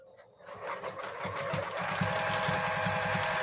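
A domestic sewing machine free-motion quilting a block starts up after a brief pause and runs steadily, a close rapid mechanical stitching chatter with no talk.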